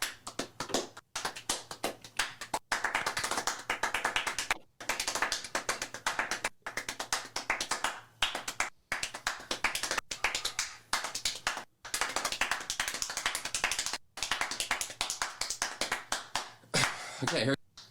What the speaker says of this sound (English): That's a rate of 12 claps per second for 60 seconds.